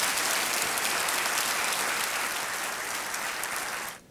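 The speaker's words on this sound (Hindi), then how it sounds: "तालियों के साथ इनका अभिनंदन।" A studio audience at a television quiz show breaks into steady, full applause that holds evenly and then cuts off abruptly at the end.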